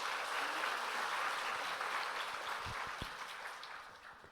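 A church congregation claps in sustained applause at a baptism that gradually thins and fades, with no voices over it.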